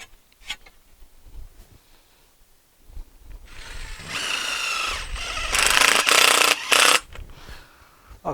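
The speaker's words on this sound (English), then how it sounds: "posi drive screws for that, and we'll just drill them in there." A power drill drives self-drilling screws into polytunnel poles: scattered taps and handling clatter give way to a rising whine of the motor, then loud bursts as the screws bite and seat, all close up with no speech.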